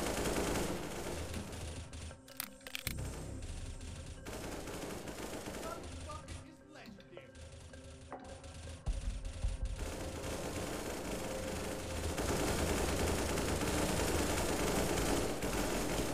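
Sustained automatic gunfire fills an Unturned team deathmatch in a USA warzone, bullets flying close overhead in dense, loud bursts with a few brief lulls, building to a heavy continuous barrage.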